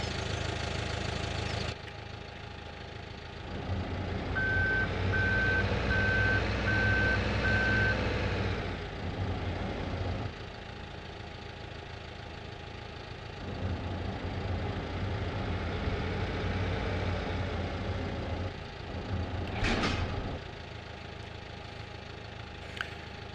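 A video game truck engine idles with a low, steady rumble while a reversing alarm beeps in an even, repeating series, then the engine hum carries on alone with brief revs and clunks.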